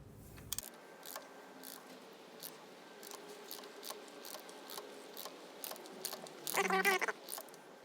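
Small metallic clicks and ratcheting of a socket tightening a new oil filter on a Chevy Cruze 1.4T, faint and close, ending in a brief burst of louder mechanical rattling.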